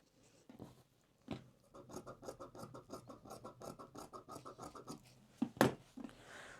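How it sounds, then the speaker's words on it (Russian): Scissors cut a strip of mesh fabric with a steady series of close, dry rasping snips, roughly twenty rhythmic strokes at a moderate level with a few thumps at the start and end. "И сейчас точно такую же вторую полосочку отрежу."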